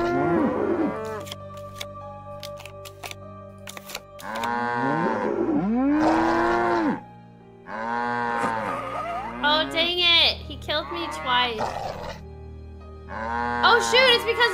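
Cows in the Nancy Drew: The Captive Curse video game moo in several long, drawn-out calls over a steady game music backdrop, one after another at close range with short gaps between them.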